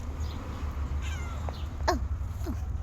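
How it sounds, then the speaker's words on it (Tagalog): A cat gives several short, thin meows at moderate distance over a steady low background hum, spaced irregularly across a few seconds. "Nandito kami kasama ang mga pusa."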